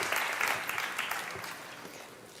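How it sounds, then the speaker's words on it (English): An audience at the Italian Tech Week 2024 conference applauds a pair of presenters, a dense patter of clapping that starts moderately loud and gradually fades over two seconds. "Please give a big round of applause to Alexander Rinke and Jeanette Zufusenberg"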